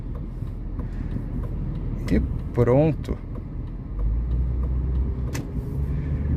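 BMW 528i E39 sedan with adaptive automatic transmission pulling away after being put in drive, a steady low engine and road rumble with brief louder swells, heard under someone talking.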